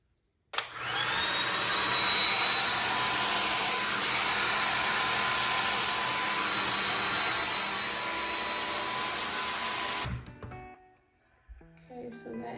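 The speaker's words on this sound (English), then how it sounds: "And then we are just gonna blow dry that. The blow dry I am using is the Infinity Pro" A Conair Infinity Pro hair dryer blows on hair being dried, a loud steady roaring hiss that starts abruptly and runs about ten seconds before cutting off, followed by faint handling noises.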